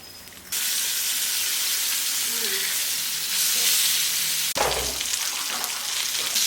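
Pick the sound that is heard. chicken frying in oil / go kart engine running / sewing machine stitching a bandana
chicken frying in oil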